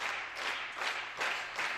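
Crowd at an air rifle mixed team juniors gold medal final applauding and cheering, steady clapping swelling in several waves across a short stretch, moderately loud and without speech.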